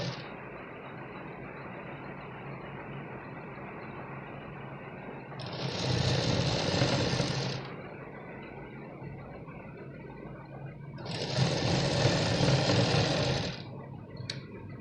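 A sewing machine stitches a blouse in two steady whirring bursts of about two seconds each, separated by a quieter stretch of low background hum.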